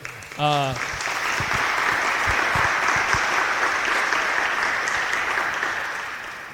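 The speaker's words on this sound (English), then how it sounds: "They're already applauding for you" Audience applauding a panel at a Lifting Voices event, a brief voice at the start giving way to steady, continuous clapping that fades slightly toward the end.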